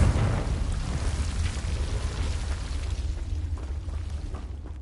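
A Confringo blasting curse explodes in a Harry Potter video game, a deep booming blast that rolls out into a crackling, rumbling tail fading over several seconds.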